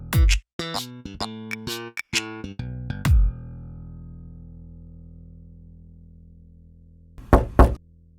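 Knocking on a door at home: a quick burst of sharp, close raps, then a pause and another brief pair of knocks, with no talking.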